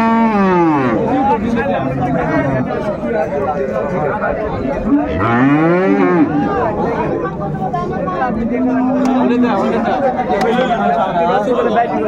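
Lowing of a dairy cow and calf at a crowded rural cattle market in Dinajpur, several long close moos spread across steady crowd babble and people talking nearby.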